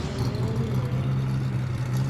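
A Holden VL Calais leaving a car show, its engine a steady, droning rumble close by with no revving peaks, heard alone.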